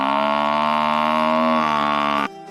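A buffalo gives one long, loud, sustained moo that holds steady for about two seconds before cutting off abruptly, heard alone as a close sound effect.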